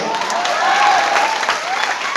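Sustained applause from an audience at a crowded meet-up in Patna, steady dense clapping with a voice faintly audible over it throughout.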